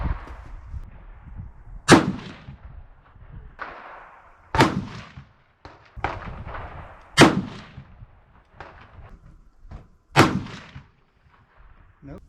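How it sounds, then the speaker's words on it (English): A Seekins rifle in 6.5 PRC fires a five-shot group: five loud, sharp reports spaced a few seconds apart, each with a short echoing decay, over faint outdoor background noise. "I'm going to go ahead and just shoot a 5-shot group anyway and see what can happen"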